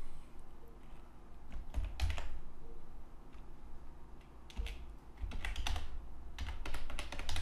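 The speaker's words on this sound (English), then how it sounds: "I type in" Keystrokes on a computer keyboard clatter in irregular bursts and short runs while text is entered into a web page editor, close and clear, with no talking.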